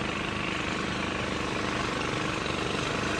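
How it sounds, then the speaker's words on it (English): A loud, steady long-tail boat engine drones close by in Thailand, a constant rumbling roar with no talking. "There's a long-tail boat passing behind me there. They're pretty loud."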